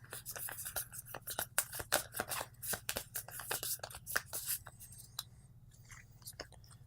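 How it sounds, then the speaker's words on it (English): Cards from the board game Promenade being shuffled as a discard pile is reshuffled, giving a close, rapid run of crisp riffling and snapping flicks over a low steady hum, with no talking. "We're out of cards, so we'll shuffle up our discard pile here."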